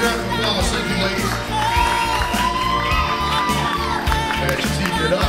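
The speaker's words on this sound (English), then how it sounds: "Big round of applause, thank you" A bikini contest audience cheers and whoops loudly and continuously over steady, thumping music.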